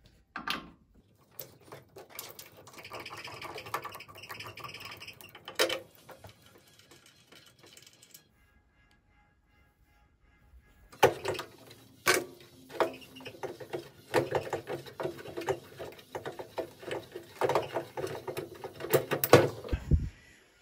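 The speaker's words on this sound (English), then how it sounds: "now I'm just gonna go ahead and take the four screws out and pull the capacitor out." Screws being backed out of the capacitor mount inside a scrap microwave oven, giving close mechanical ratcheting and clicking bursts with metallic rattles, a quiet pause midway, then denser clicking and clatter toward the end.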